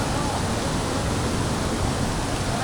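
A waterfall pouring inside Krem Chympe cave in Meghalaya, a dense, loud, steady roar of falling water filling the space without pause.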